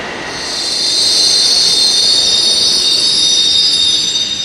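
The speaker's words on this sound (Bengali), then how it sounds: "আমরা কিন্তু এখন জয় হিন্দ মেট্রো স্টেশন থেকে মেট্রোতে উঠে পড়েছি" A Kolkata Metro train boarded at Jai Hind station on the airport line runs with a loud, sustained high-pitched wheel squeal that swells in the first second and holds steady over a low rumble.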